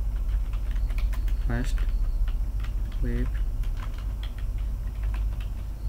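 Typing on a computer keyboard while writing HTML, with scattered light key clicks under steady background noise as a voice speaks briefly.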